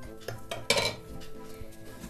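An old, worn frying pan used for frying pancakes is handled in a kitchen, giving a few close metallic clanks and clinks with one louder knock partway through.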